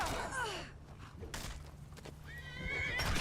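A horse in the video game Skyrim whinnies loudly twice, the calls rising and falling over a steady background hum, with a soft snort in between.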